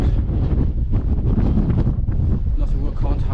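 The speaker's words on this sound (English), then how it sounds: "It didn't feel too cold, but this is quite a biting wind" Strong, biting wind gusts across a hilltop on Windy Gyle, loud and continuous as it buffets the microphone in steady, roaring surges.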